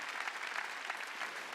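A church congregation at a Sunday service in a gymnasium applauds, a dense burst of hand clapping from many people, somewhat distant and steady throughout.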